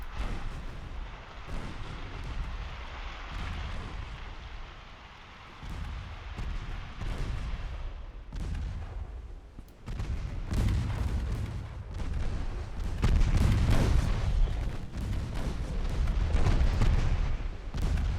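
Heavy naval gunfire and booming explosions roll through a 1914 French warship battle as a torpedo strikes the ship Sibylla, with dense, loud, continuous rumbling blasts that swell stronger toward the end.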